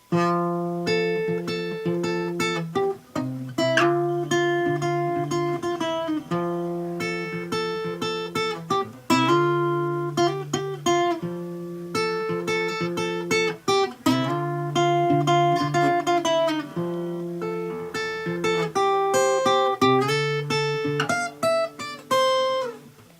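A clean guitar plays the intro and verse of a song, a melodic, repeating riff with ringing harmonic notes in steady phrases. It's loud and close, with no talking.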